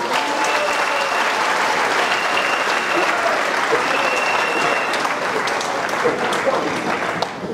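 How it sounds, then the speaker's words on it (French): A large crowd at a political gathering in Côte d'Ivoire applauds the former president, with loud, dense, continuous clapping that holds steady for over seven seconds. "il faut encore applaudir le président Bédié."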